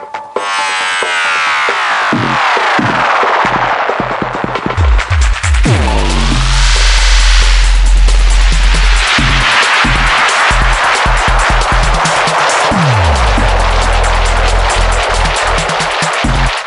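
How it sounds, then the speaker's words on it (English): Harsh, swirling electronic noise from a DJM-900nxs mixer's spiral tape-delay effect, with pitch sweeps rising and falling, sliding tones spiraling through a dense, loud wash of repeating echoes, no voices. "the spiral is like a tape delay that's gone bananas"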